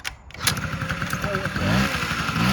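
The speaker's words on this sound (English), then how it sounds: "I've got a bit of a flat battery, so we'll have to kickstart her." A cold 1982 Honda Melody scooter with a flat battery being kickstarted: a small engine clatters and catches into a rough, steady putter close by, with a voice talking over it.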